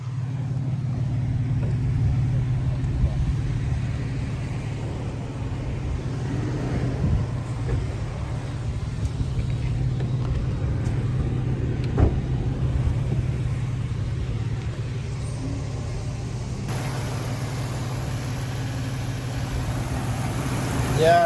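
Car engine idling with a worn drive belt, a steady low rumble and hum running continuously for around twenty seconds with faint mechanical ticking, close by and without speech.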